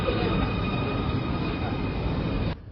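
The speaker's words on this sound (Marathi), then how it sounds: "आपली ट्रेन आलेली आहे" A subway train in Munich roars into an underground station, loud and steady with metallic rumbling, then cuts off abruptly near the end.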